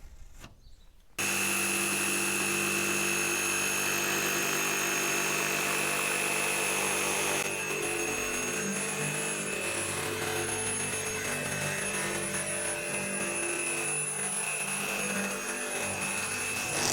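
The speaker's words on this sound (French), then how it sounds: "tout découper à la scie sauteuse" A jigsaw cuts through a wooden panel during the fit-out of a Ford Transit Custom L1H1 van, starting abruptly after a short silence and then running as a loud, continuous buzzing whine that holds steady to the end.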